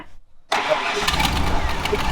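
An off-road tow truck engine cranks briefly and catches after half a second of near silence, then settles into a loud, close, rough idle.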